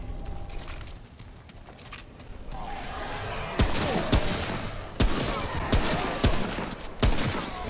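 In the action shooter game Remnant, a hunting rifle fires several heavy, spaced shots, each a sharp loud crack over a rumbling game backdrop, with roughly a second or more between blasts.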